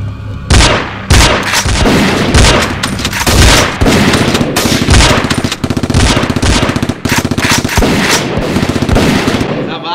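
Loud bursts of gunfire, rapid volleys and repeated shots in close succession, dense and near, filling the scene during a police standoff with a suspect holding a fake gun.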